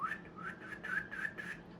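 A person whistles a short wavering tune, a run of quick pulsed notes sliding up and down, fairly close and clear.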